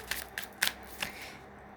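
Tarot cards are shuffled by hand nearby, producing a few quick, crisp riffling swishes in short bursts, fairly faint.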